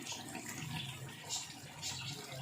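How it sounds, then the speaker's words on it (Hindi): Water is poured into a simmering chicken and potato curry in a pot, a soft, steady splashing pour with slight swells, heard alone and fairly quiet. "इसमें मैं थोड़ा पानी डाल रही हूँ"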